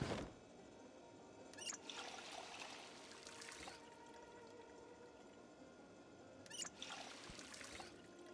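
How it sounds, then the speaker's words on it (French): A water bottle fills in Project Zomboid, a faint trickling pour that starts, runs for a couple of seconds, pauses, then repeats, quiet and alone. "remplir la bouteille d'eau"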